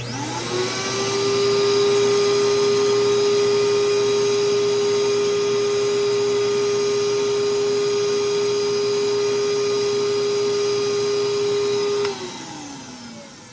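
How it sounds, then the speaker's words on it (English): A record-cleaning vacuum whirs at a steady, loud pitch for about twelve seconds, then cuts off and winds down. "we're going to turn on the vacuum and only turn it a couple of times"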